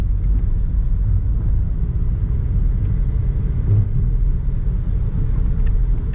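Road traffic moving through Macau during a typhoon, a steady close rumble of car engines and tyres with whirring motors and occasional revving, continuous and loud with no talk.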